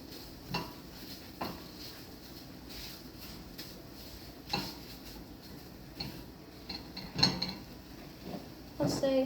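A utensil scrapes and taps against a pan while scrambled eggs are mashed and stirred, intermittent clicks over a faint background sizzle, with a voice speaking at times.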